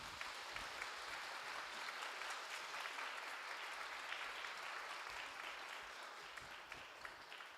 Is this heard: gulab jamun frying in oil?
no